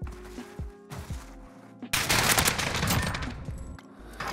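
A PKM light machine gun firing in a video game: a few separate single shots, then a long, loud sustained automatic burst.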